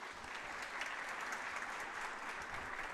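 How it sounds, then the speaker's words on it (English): At a college athlete ceremony, a large audience gives sustained, even applause, a dense wash of clapping that holds steady without voices standing out. "Please give them a round of applause."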